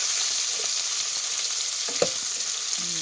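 Bacon and vegetables frying in a pot for minestrone soup, a steady close sizzle with a few soft scraping stirs and light clicks of a utensil, no talk.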